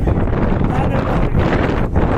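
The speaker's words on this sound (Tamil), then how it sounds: "காற்று வேகமாக இருக்கு" Strong onshore wind buffeting the microphone on a fishing beach, a steady loud broadband roar with gusty swells throughout.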